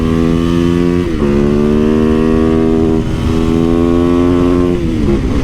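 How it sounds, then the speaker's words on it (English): A small, light, torquey motorcycle rides up close with its throttle ripped hard. The loud, buzzing engine note climbs in repeated surges, dipping between gear shifts, with no voices. "It's really more fun riding the small bikes and really ripping the throttle."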